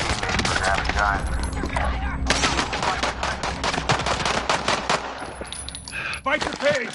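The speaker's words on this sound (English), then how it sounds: "someone with a gun just shot at me" Rapid bursts of gunfire from a shooter video game crackle close and loud in quick repeated volleys, with a player's voice talking over parts of it.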